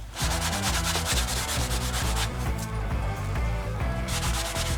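A cloth soaked in rubbing alcohol scrubbed over a canvas to remove silicone, a loud continuous rough rubbing close by with steady back-and-forth strokes and no voices.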